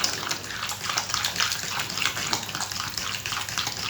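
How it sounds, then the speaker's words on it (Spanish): Oil pours in a continuous liquid stream into a beaten egg mixture for a rice soufflé, a close steady gurgling splash lasting a few seconds with no talking. "Vamos a agregar, familia, acá 50 ml de aceite"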